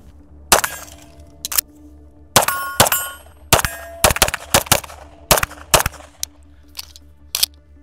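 Atlas Apollo pistol shots ringing off steel targets, a string of sharp cracks followed by metallic clangs and pings, some in quick doubles and others spaced out, loud and close with no talking.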